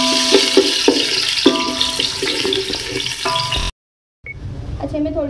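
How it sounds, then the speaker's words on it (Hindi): Onions frying in ghee for chana pulao, giving a loud continuous sizzle with clattering stirring knocks, then a brief silence before quieter sizzling resumes. "प्याज को हम फ्राई कर लेंगे"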